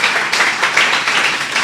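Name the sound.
applause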